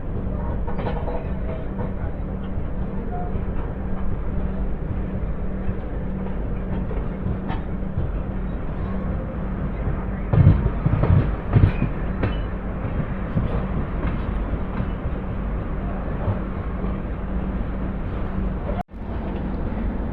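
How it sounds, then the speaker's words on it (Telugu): Janmabhoomi Superfast Express rolls slowly into Tenali station, a steady low rumble of wheels and carriages with faint rhythmic clatter and a few louder knocks midway, heard from inside the moving train. "తెనాలి స్టేషన్లోకి మెల్లిగా తీసుకెళ్తున్నారు."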